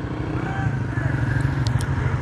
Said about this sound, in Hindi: ये इस तरह से ट्रैक्टर यहाँ पर अभी ट्रॉली पीछे लगी है और ये कंक्रीट यहाँ पर अनलोड कर रहे हैं